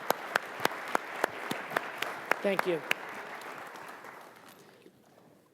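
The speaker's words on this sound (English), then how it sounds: "Please join me in a wonderful round of applause for these great panelists." Thin, scattered clapping from a panel-discussion audience on EU and NATO defence cooperation, individual claps ringing out distinctly before fading, with someone briefly speaking over it.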